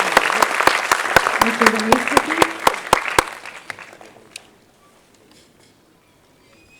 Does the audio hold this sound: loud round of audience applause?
yes